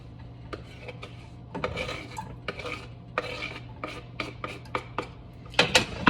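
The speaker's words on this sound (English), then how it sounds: "I'm gonna stir that around for a little bit, let it get nice and brown" Vegetables are stirred while sautéing in a pan, an utensil scraping and clinking against the pan in irregular strokes over a low steady hum, close and clear without talk.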